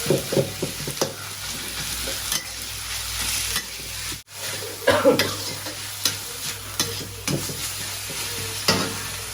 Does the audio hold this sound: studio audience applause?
no